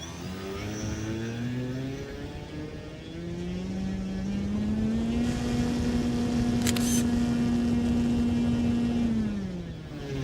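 An AM850 engine runs on a thrust test bench with a steady whirring drone that climbs in pitch, holds high for several seconds, then begins to wind down.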